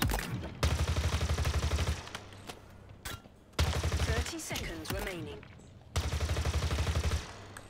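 Rapid automatic weapon fire from Halo Infinite drills, bursts loud and close in repeated strings with pauses between, under a voice talking in the gaps.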